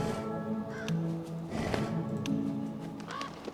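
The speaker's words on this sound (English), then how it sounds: "And there's crows, but this time they're real." Crows cawing in an ancient forest in the video game Monument Valley 2, a few hoarse calls over a busy layered ambient music bed with other tonal sounds.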